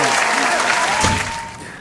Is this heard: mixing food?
no